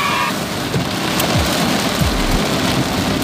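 Heavy rain pours steadily onto a car while driving along Selokan Mataram toward Jogja, a dense, continuous hiss with a few faint low thumps beneath.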